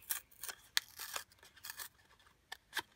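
Scissors snip through a cardboard soap box in a run of short, crisp cuts, several quick snips close to the mic with brief pauses between, fairly quiet and with no talking.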